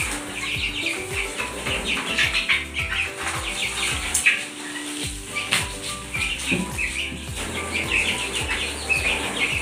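Chickens and chicks clucking and cheeping busily throughout as they are fed, with brief wing flaps and scratchy pecking sounds close by.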